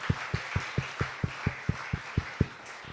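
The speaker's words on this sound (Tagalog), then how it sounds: "Malakas na palakpak sa Panginoon." A church congregation gives a short burst of applause, rendered as about eleven sharp, evenly spaced claps in a steady rhythm over a dim roomy background, with no voices.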